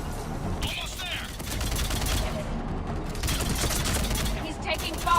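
Sustained firefight gunfire in the Mass Effect 3 video game, with dense overlapping bursts of shots that run steadily for several seconds, close and loud, mixed with other battle noise.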